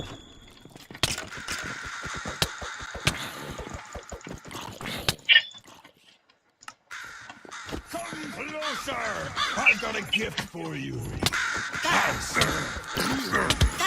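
Crows cawing in the video game Minecraft, harsh repeated calls scattered among clicks and game noise, with people talking loudly over much of it.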